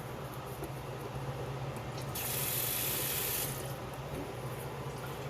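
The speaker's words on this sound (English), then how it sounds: "Put you a little water in there to rinse that out." Water running from a tap to rinse leftover tomato out of a blender while making tomato sauce for stew, a steady splashing wash that swells louder for about a second midway through.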